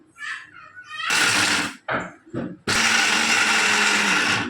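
A kitchen mixer grinder runs in pulse mode on roasted almonds and pistachios, giving two loud, rough whirring bursts separated by short gaps and brief clatters, with faint noises before the first burst.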